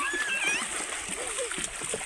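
A child jumps into a jungle river in Konkan, and the water gives a short splash and gurgle close by while voices carry on in the background.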